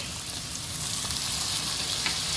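Onion, carrot and garlic fry in a pan for a beef, mushroom and Guinness pie with a loud, steady close sizzle and faint crackles while being stirred.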